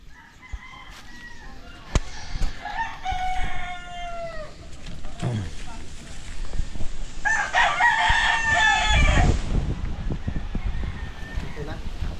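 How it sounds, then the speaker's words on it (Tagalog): A rooster crows a few times outdoors, with drawn-out calls rising and falling at moderate distance, while people talk nearby and rustling noise builds toward the end. "Aba, may ibon pala din eh."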